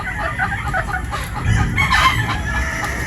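Pullets and hens clucking in a coop, a steady busy chorus of overlapping clucks and calls, some close and others farther off, with no talk.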